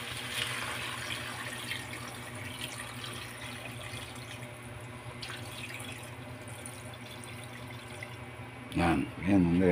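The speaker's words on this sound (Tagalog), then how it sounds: "Nilagay tayo ng tubig" Water pours into a cooking pot in a home kitchen, a steady rushing splash that runs throughout, with a person talking over it and a louder burst near the end.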